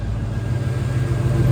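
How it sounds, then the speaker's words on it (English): A 1984 Chevrolet K5 Blazer engine idles with a steady, deep low rumble, close and continuous with no speech over it. "It's got a nice little rumble to it."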